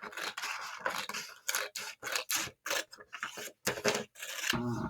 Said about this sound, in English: So that's when you take your scissors out.